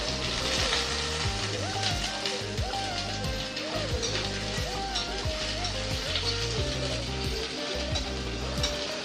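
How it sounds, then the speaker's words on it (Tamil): Mustard seeds, onions and crushed garlic frying in oil for a sardine fish curry, a steady close sizzle with crackling pops running beneath background music. "கடுகு போட்டு அது நல்லா பொரிஞ்ச உடனே அதில் கொஞ்சமாக வெந்தயமும் ஜீரகமும் போடலாம்"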